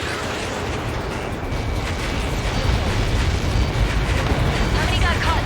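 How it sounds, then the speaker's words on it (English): A large explosion in the Ace Combat 7 combat flight video game rumbles as a long, loud, low roaring blast that swells and persists, with a voice speaking over it. "How many got caught in that explosion?"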